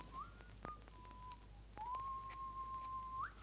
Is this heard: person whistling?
yes